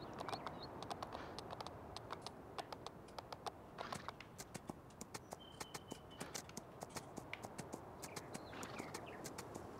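Horse hooves walking in the Landwirtschafts-Simulator 19 farming game, a steady run of sharp clip-clop taps repeating through the whole stretch over a dense bed of background noise, with no voices.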